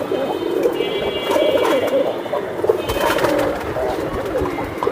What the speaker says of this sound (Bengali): এটা একটা বেজি কবুতর ভাই।